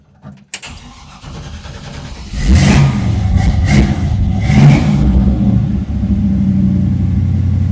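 A gasoline engine cranks and catches after a fuel line repair, revving loudly before settling into a steady, raised idle of about 1,300 RPM, close and continuous with no talk.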